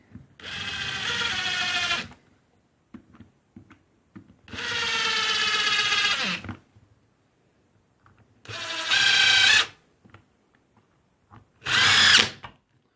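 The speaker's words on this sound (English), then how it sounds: "So we'll just zip in the screws." A Panasonic EY7441 impact driver drives screws in four loud, close bursts of one to two seconds each, its high whirring whine rising and cutting off, with quiet handling clicks between runs and no talking.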